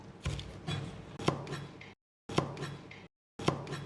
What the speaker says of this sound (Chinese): 接下来准备1把小葱，直接把它切成葱段